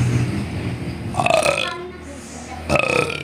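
Two deep, throaty burps a little over a second apart, fairly close and prominent over quiet room noise.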